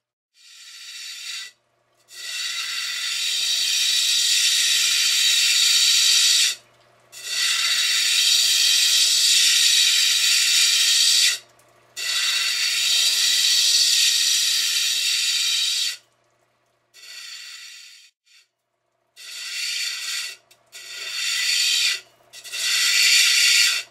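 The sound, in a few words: cutting the corners off an agate stone block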